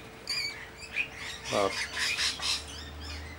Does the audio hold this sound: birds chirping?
yes